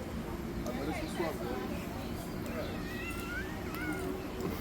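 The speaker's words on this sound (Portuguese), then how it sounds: "Esse é o gato da casa." A house cat meows several times in a thin, wavering voice inside the home of writer Jorge Amado, moderately close, over a steady room murmur and background voices.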